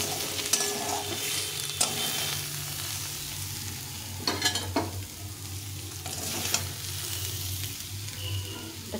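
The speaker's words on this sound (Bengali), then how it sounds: "আমার শাকটা ভাজা হয়ে গেছে।" Radish greens sizzle steadily in a frying pan while a utensil stirs them, with occasional scraping clinks against the pan close by and no talk.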